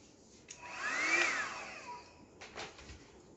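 A small new electric air blower whirs briefly, swelling to a faint high whine and fading, followed by a couple of soft clicks and handling sounds.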